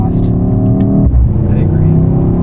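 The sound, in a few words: Mercedes-AMG GT 63 S E Performance engine and exhaust accelerating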